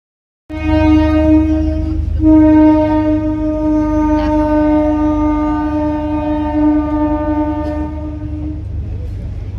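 A train passes a railway crossing in Raiganj town, its loud sustained horn blaring with steady harmonic tones over a rumbling rail roar that holds for most of the clip, with faint clatter beneath.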